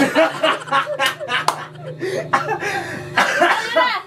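Several coughs and a throaty chuckle break up a stretch of close, mixed vocal sounds, with rough bursts spread across a few seconds and voices in between.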